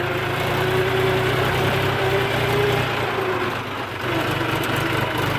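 A tractor with a trolley attached idles nearby in Kutch with a steady, loud, chugging rumble, dipping briefly before settling back to the same drone.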